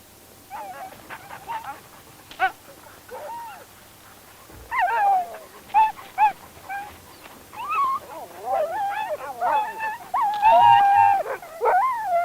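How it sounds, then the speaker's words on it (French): Chained, isolated sled dogs near Churchill howl and whimper in long wavering, overlapping cries, several voices rising and falling at moderate distance, growing louder and denser toward the end. "Un combat inégal pour ces chiens de traîneau enchaînés et isolés."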